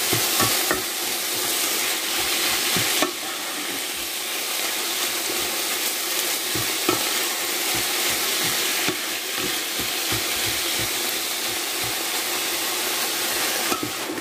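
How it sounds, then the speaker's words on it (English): Spring roll filling seasoned with salt and pepper being stirred in a frying pan, a loud constant sizzle and hiss with rapid, rhythmic spatula scrapes and knocks throughout. "And stir."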